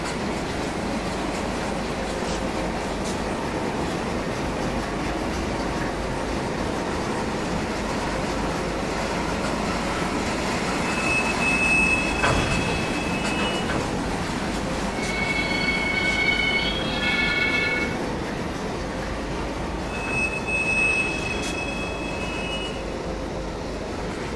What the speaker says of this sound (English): As the RS-11s move back to get the rest of the train